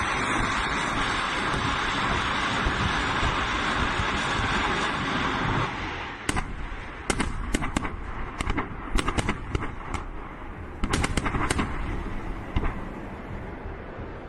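HIMARS missile strikes on a Russian military convoy: a sustained, loud roaring rumble gives way to a series of sharp, distant-sounding blasts and crackling bursts, some in quick clusters.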